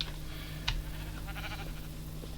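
Sheep bleating in the video game Minecraft, a short wavering bleat over a steady background hum with a soft thump partway through; no one speaks.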